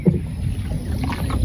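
Wind-buffeted rowing of a small boat on a river during the monsoon, with steady low rumbling wind noise against the microphone and faint water movement throughout.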